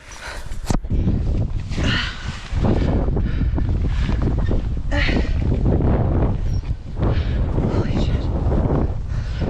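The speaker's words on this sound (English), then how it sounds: "As we reach the thinnest part of the spine, just before a resting area, the wind picks up. I can feel my body being pushed by these big gusts" Strong, roaring wind gusts buffet the microphone on the narrow spine of the Angels Landing ridge in Zion, a loud continuous rush with surging peaks, heavy and close throughout.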